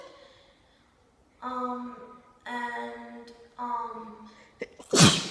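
A single sharp sneeze bursts out at the end, preceded by a few short voiced sounds.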